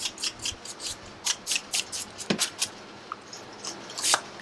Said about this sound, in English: buff out with scissors,